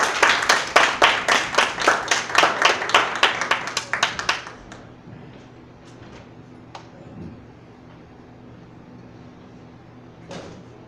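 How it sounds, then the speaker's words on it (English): Loud, evenly spaced audience claps in a theatre showcase, in a steady rhythm for a few seconds, then they die away into quiet room noise with a stray tap later. "Please welcome Styles 83."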